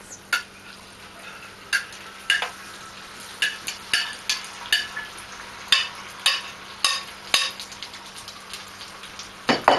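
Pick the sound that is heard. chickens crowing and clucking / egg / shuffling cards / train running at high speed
egg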